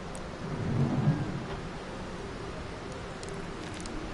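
Rain and thunder in the video game Retropolis 2: a steady hiss of rain with a low thunder rumble swelling near the start, then fading into an even wash.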